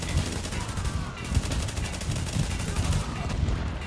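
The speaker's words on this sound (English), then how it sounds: "Just give me some cover fire." Sustained automatic weapon fire from a firefight in The Division, loud and close, with bursts of shots blending into a steady barrage.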